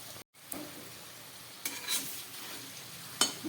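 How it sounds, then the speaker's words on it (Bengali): Large potato pieces frying in oil in a pan, a soft steady sizzle broken by a few scraping stirs and clinks of a spatula. "আলুগুলো খুব সুন্দরভাবে আমি ভেজে নিলাম"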